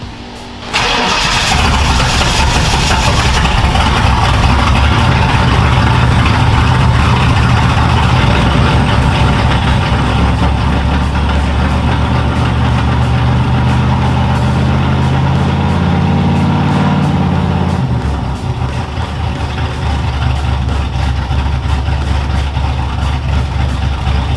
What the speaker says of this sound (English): these are big motors, so sometimes they need a lot of air just to idle them